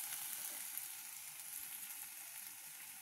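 Spices frying lightly in a little oil while being stirred give off a faint, even, high-pitched sizzle that stays constant, with no voices.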